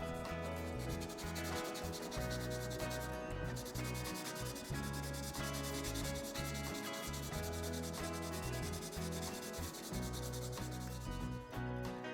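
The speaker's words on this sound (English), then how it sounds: "A 1000 grit sponge." Rhythmic scratchy rubbing as a 1000 grit sanding sponge works over the plastic of a Hasegawa 1/48 A6M2b Zero model kit, steady back-and-forth strokes close up with no talking.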